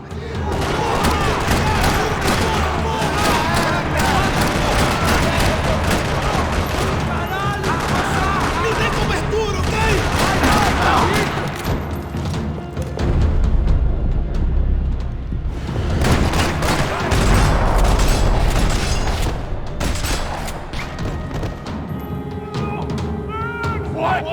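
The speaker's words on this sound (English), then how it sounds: "Another parking lot rattling with gunfire." Sustained rapid gunfire and booming blasts in a parking lot in Max Payne 3, loud and continuous, with heavy thuds and bursts layered over a dense battle din.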